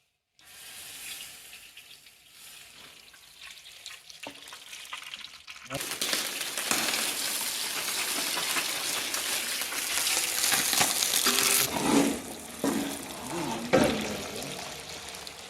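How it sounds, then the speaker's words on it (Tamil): Ghee poured into a hot, dry pan sizzles and hisses, starting softer and swelling into a loud, steady rush that roughens with crackling bursts toward the end, close by. "2 கிலோ அளவுக்கு நெய் ஊற்ற போகிறோம்"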